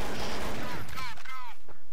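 Gunfire in the video game Counter-Strike: Source, a dense, loud burst of overlapping shots and fire at the start, then a quieter stretch with short tonal blips and fading echoes.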